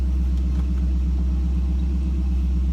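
A 1974 Ford Bronco rumbles low and steady as it pulls away. The engine drone is loud and constant, with no talk over it.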